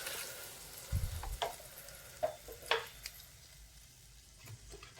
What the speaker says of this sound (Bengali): এবার আমি হালকা জল দেবো।